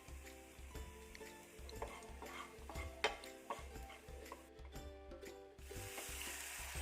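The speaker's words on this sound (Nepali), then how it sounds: "मैले यसमा काटेर राखेको लसुनलाई राखिदिए थोरै र थोरै जिरा पनि राखिदिन्छु र थोरै ज्वानो पनि राखिदिन्छु" Chopped garlic, cumin and ajwain sizzling in ghee for kwati bean soup, a soft continuous crackle with scattered ticks and light clinks of a utensil, fairly quiet and close.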